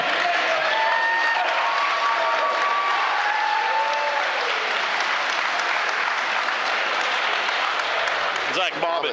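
A crowd at a combat sports fight event applauds steadily and loudly, with faint voices and cheers mixed in throughout.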